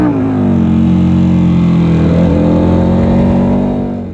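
Race motorcycle engines, including a stock Ducati V4S, rev together loudly at the start of a race on a track dedicated to Angelo Bergamonti, a dense sustained roar of several engines holding steady pitch with no talk.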